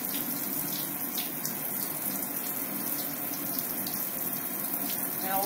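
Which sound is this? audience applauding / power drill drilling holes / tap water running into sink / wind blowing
tap water running into sink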